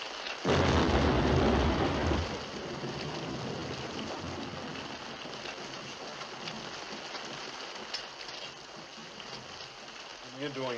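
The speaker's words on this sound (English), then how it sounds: "It's raining outside." Rain falls outside in a steady, fairly faint hiss, with a louder rushing burst near the start before it settles into an even wash that continues to the end.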